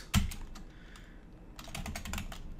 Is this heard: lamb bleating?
no